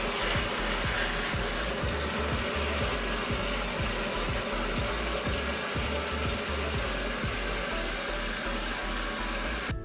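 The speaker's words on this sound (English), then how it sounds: "we got it all filled up, so now we're going to rinse it" A portable apartment washing machine churns through its rinse cycle, a steady loud mechanical drone with rhythmic clicking pulses and running water throughout, no voices.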